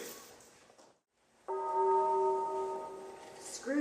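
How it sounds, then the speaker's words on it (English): During a stage play of A Christmas Carol, a single deep bell stroke rings out after a brief hush and hangs in a long, resonant, slowly fading hum. "Remember that when the bell tolls 1, look for the first spirit."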